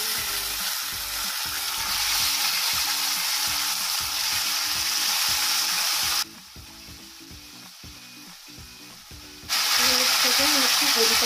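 Asafoetida and cumin seeds sizzle steadily in hot oil in a pan for a pickle of karonda and green chillies. The loud frying hiss briefly drops quieter midway, then returns at full strength.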